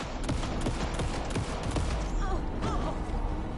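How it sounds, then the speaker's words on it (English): Rapid bursts of gunfire in the video game Alan Wake II crackle in quick sharp volleys over a dense, noisy game soundscape, with brief voice-like tones near the end. "Anderson, pin him down with gunfire for me to get the light on him."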